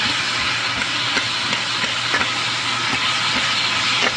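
Leeks and fennel with a little garlic sizzle in a pan as a steady, loud hiss. Faint scrapes of stirring tick through it now and then, close and without talk.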